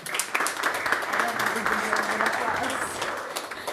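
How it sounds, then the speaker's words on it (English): Audience applause rings out at a freestyle chess tournament stage event, a dense, steady wash of clapping lasting a few seconds, with voices mixed faintly into the crowd noise. "Please give her a round of applause."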